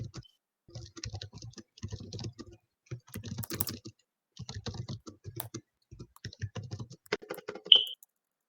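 Bursts of typing on a computer keyboard while entering Python code, quick clicky keystrokes in irregular runs separated by short pauses, close and fairly quiet, with a brief sharp click near the end.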